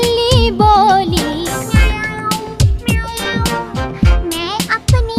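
A voice imitates a cat's meow in a sung, rhythmic way over loud music with steady percussion, repeated meow-like phrases in a children's story song.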